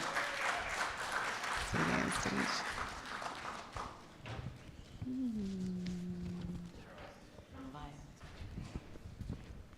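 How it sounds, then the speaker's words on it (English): An audience at a Black Entrepreneurship Ecosystem Conference claps in a sustained round of applause, loud at first and thinning out, with voices and a brief vocal tone partway through. "Please give them a round of applause."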